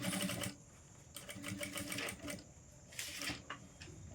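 Sewing machine stitching fabric for a placket on a child's top, quiet rapid mechanical whirring in short runs with brief stops between.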